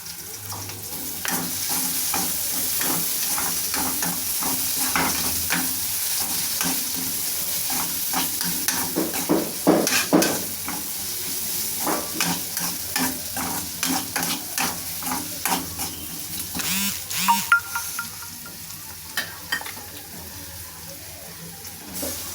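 Curry leaves sizzle in hot oil in a pan for potato masala, a steady loud frying hiss heard close up, with repeated stirring scrapes and clinks running throughout.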